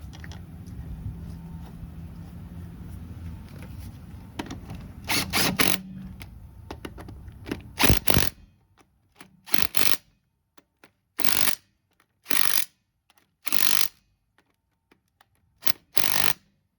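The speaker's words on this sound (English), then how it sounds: "Throw this bolt in and we'll start torquing everything down." Hub flange bolts being torqued down on a GM 14 bolt axle, a ratcheting tool clicking in rapid bursts after some mechanical shuffling, each burst a short close crackle separated by pauses.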